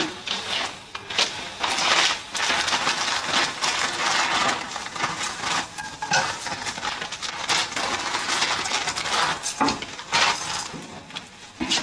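Fried potato, carrot and beans with Maggi noodles clatter and scrape in a pan, with busy irregular metallic knocks and stirring noises throughout.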